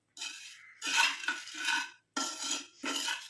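A spoon stirs and scrapes against a bowl while a homemade herbal hair dye mixture is blended, in several close, distinct bursts of clinking and scraping with short pauses between them.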